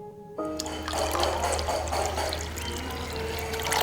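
Water gushes steadily into a homemade cement aquarium after a brief quiet start, a continuous close splashing fill with a low hum underneath.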